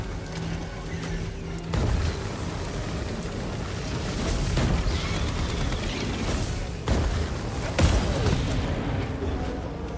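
Heavy booms and explosive bursts from a rocket turret blowing up in the video game Helldivers 2, several deep impacts spaced across a loud, rumbling battle din.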